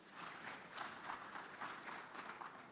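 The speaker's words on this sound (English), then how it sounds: "Let's clap for her, it's more reassuring." Audience applause at a panel session of the COMESA Summit of Heads of State and Government: a steady, fairly faint wash of clapping from a crowd that holds evenly for a few seconds.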